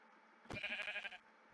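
Angry sheep in a Minecraft mod game gives one short synthetic bleat of about three-quarters of a second, steady and fairly close, with a soft thump at its onset and no talk over it.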